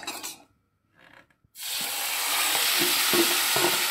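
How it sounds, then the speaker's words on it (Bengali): Green pea paste hits hot ghee in a kadai for kachori filling, bursting into a loud, sustained sizzle after a brief quiet moment, with soft stirring scrapes through the hiss. "কড়াইশুঁটির বাটাটা দিয়ে দিচ্ছি, দিয়ে নেড়ে নেড়ে পুরটা বানিয়ে নেব"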